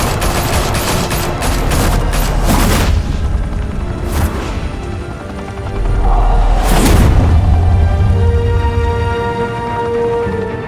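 Gunfire erupts in the Batman: The Telltale Series video game during a Skyline Club shootout, with rapid volleys and heavy booming shots, loud and close, over a continuous rumbling background.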